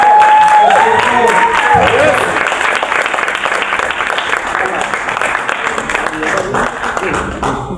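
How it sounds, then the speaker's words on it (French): An audience at a casting event claps steadily after a voice speaks at the start, the applause continuing for several seconds at moderate loudness. "Et un grand merci à vous, on peut applaudir"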